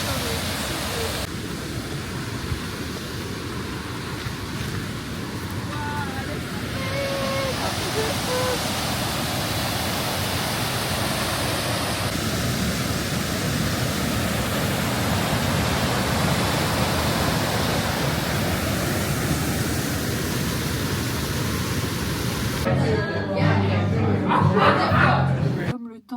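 Rushing waterfalls at a Maori jumping spot with pools in New Zealand, a constant loud roar of falling water with people chatting and laughing faintly underneath.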